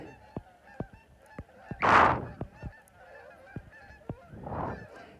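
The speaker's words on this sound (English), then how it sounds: "They look a bit like geese." Geese honking outdoors on a walk, two distinct loud honks a few seconds apart against a background of rhythmic clicks and taps.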